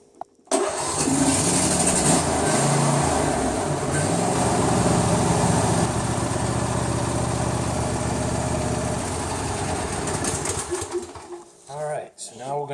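A John Deere D170 lawn tractor engine fires up and settles into a steady, loud run after a fresh oil and filter change, with a shift in the engine note near the end.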